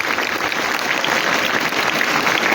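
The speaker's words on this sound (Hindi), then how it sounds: "उनके यहाँ स्टेज तक आने तक तालियों की गड़गड़ाहट को जारी रखें।" Schoolchildren at a school award ceremony applaud together, a loud, dense and sustained clapping that fills the whole stretch.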